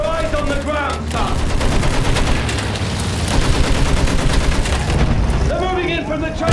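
Machine gun fire roars continuously and loud through a Battlefield battle scene, dense rattling bursts under shouted voices at the start and end.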